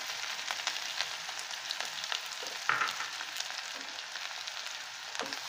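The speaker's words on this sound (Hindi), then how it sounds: "हमने जो प्याज ली है वो डालेंगे" Chopped onion sizzles and fries in hot oil with cumin seeds and asafoetida for a methi dana sabzi, a steady close crackling hiss with a few sharper pops, no voices.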